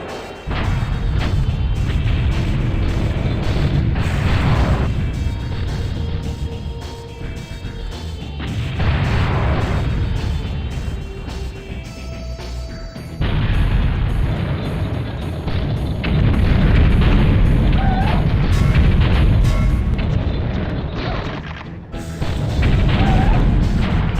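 Guided missile explosions in the N64 tank combat game BattleTanx: Global Assault, a run of loud booming blasts and crashing impacts that swell and decay in repeated waves with brief quieter gaps between them.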